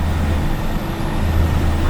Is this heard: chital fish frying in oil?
no